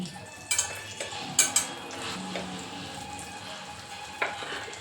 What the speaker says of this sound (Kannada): ಇದರಲ್ಲಿ ಇವಾಗ ಪನ್ನೀರ್ನ ಫ್ರೈ ಮಾಡ್ಕೊತಾ ಇದ್ದೀನಿ